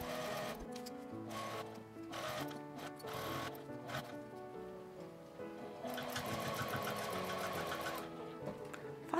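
A sewing machine stitches around a bag lining with a 1 cm seam allowance, a continuous close mechanical whir and rhythmic needle clatter that rises slightly in intensity toward the end, with no talking.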